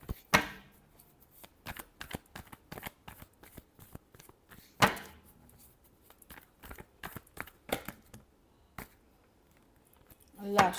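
Tarot cards are shuffled in repeated crisp riffles and slaps, with a few louder bursts among quieter rustles, close up and alone.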